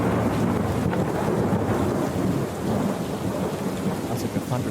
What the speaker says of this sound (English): Sounds like the thunder's getting pretty close.